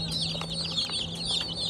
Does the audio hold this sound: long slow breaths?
no